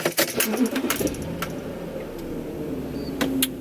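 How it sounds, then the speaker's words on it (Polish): Keys jingle up close as a Volkswagen Touareg 4.2 V8 is started inside a garage. A low, steady engine hum follows, with a few faint clicks over it. "I sami zobaczcie, odpalamy auto."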